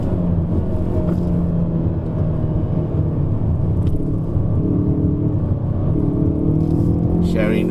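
Steady low engine rumble from inside a Hyundai i30 N on a hillclimb road, continuous and fairly loud, with voices talking over it.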